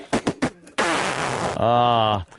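A voice imitates a fart, a loud buzzing raspberry blown with the lips, sputtering and then holding a steady droning pitch for over a second, right after a few short spoken syllables.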